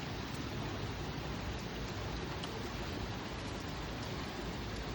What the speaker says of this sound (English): But look at beautiful rain.